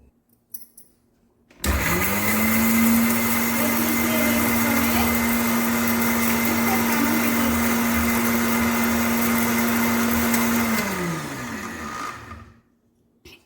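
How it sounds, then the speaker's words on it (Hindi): A kitchen mixer grinder grinds makhana, cashews and almonds, switching on abruptly into a loud steady high whine that holds for about nine seconds before winding down and stopping. "इसको फिर से पीस लेती हूँ मिक्सी में"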